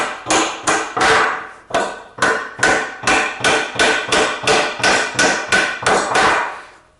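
Claw hammer strikes wood again and again, driving nails out of a pallet: about sixteen sharp, loud, close-up blows in a steady rhythm with a brief pause, no talking.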